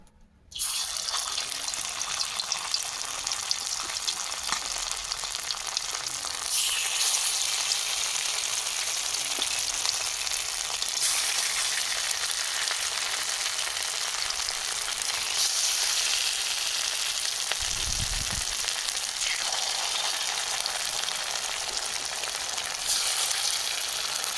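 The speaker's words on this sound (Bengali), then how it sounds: "কড়াতে সাদা তেল দিয়ে দিচ্ছি কুমড়ো ফুলের বড়া তেল গরম হয়ে গেছে" Pumpkin flower fritters sizzle in hot white oil in a wok, a steady loud crackling hiss running without pause, with a brief low knock partway through.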